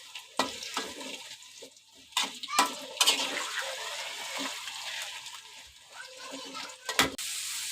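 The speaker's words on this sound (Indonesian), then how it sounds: "Langsung aja kita goreng kentangnya." Potatoes for perkedel frying in hot oil, giving a steady close sizzling hiss with occasional clinks of a utensil against the pan.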